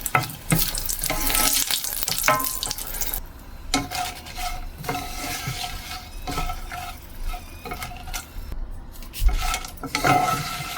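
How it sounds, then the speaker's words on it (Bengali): Dried red chilies fry in hot oil, crackling and sizzling loudly up close while a utensil repeatedly scrapes and clinks against the pan in an irregular rhythm throughout. "শুকনা মরিচগুলো ভাজা দিব।"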